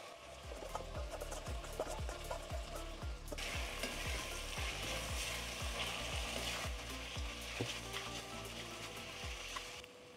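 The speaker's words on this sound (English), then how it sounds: "let's add in our shrimp and peppers now" Shrimp and peppers sizzle and fry steadily in a hot pan, a dense continuous crackle with repeated scraping stirs and clinks throughout, loud and close with no talking.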